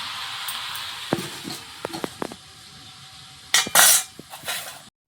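Vegetables with small fried shrimp stirred and sautéed in a pan, heard as scattered metallic clinks and scrapes of a spatula against the pan over a soft steady sizzle, with a louder scraping burst toward the end.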